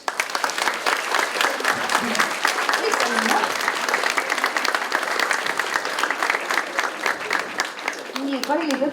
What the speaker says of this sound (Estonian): veel kord suur aplaus.